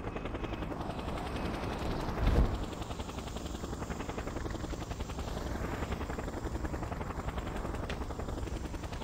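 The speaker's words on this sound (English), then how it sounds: "So here we're going to get picked up by a helicopter, and we have to wait for it." A helicopter in the video game Just Cause drones with a constant loud rotor roar, and a single heavy thump cuts through early on.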